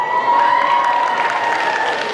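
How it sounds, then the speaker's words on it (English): Steady, dense audience applause fills the hall as a cosplayer dressed as Eevee from Pokemon walks up on stage during a convention cosplay contest, loud and continuous throughout with faint cheers mixed in. "Give her a round of applause as she comes up on stage"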